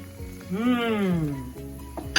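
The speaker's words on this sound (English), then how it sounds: "To this, I'm also gonna add my Thai coconut milk." Thai coconut milk is poured into a pan of shrimp and vegetables, a steady close sizzle running throughout under a drawn-out voiced exclamation, ending with a brief sharp clink.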